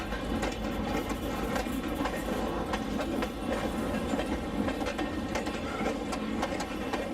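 An N scale model train rolls along the Kokomo Junction Railroad layout, a steady, close clatter of small wheels and mechanism that holds constant with no pauses or voices.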